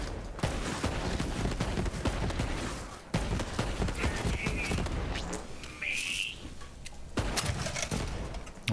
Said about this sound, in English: Oh, so we have one that fires 2 shots. Alternate fire mode.